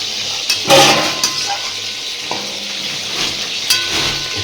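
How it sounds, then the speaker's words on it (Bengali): Potatoes fry in spice paste for a tomato and red lentil dal, a steady close sizzle broken by a few sharper scraping stirs of the pan, with no talking. "এই মশলাটার মধ্যে আলুগুলো দেওয়া হয়েছে দিয়ে এটাকে ভালো করে কষানো হচ্ছে"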